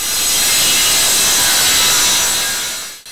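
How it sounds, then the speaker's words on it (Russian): A circular saw rips steadily through wood at a small woodworking shop, a loud continuous grinding hiss that holds for about three seconds before cutting off abruptly. "Циркулярная пила сквозь мягкое масло проходит сквозь дерево."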